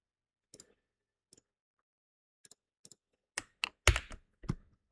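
Computer keyboard keys pressed in PureRef, including a Ctrl V paste: a few sparse, quiet single taps, then a quick cluster of louder clicks near the end, close to the microphone with no talk.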